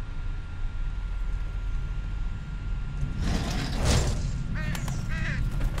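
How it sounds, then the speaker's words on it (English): A bird caws in the video game Condemned: Criminal Origins: a few harsh, nearby calls rise over a steady low ambient rumble in the second half. "I heard a bird over here."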